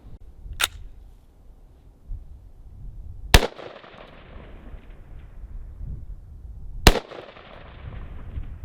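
Three sharp gunshots from a short-barreled rifle fired at a target 400 yards out in open country, spaced about three seconds apart, each loud crack followed by a fading echoing tail over quiet background.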